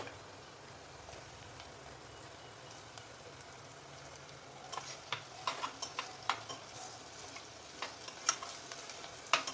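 Ground masala hits browned onions in a pan, a faint low sizzle at first that grows into louder crackling pops and spatters in the second half, heard close with no talk.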